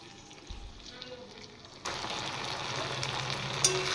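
Dissolved cornflour is stirred into a frying chickpea and taro curry, bringing a soft bubbling that swells suddenly into a louder, wetter sizzle with stirring noises, close and continuous.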